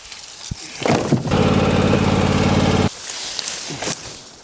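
A small mower engine revs up and runs steadily for about two seconds while cutting brush along a fence line, then drops off, with brief scraping and rustling bursts before and after.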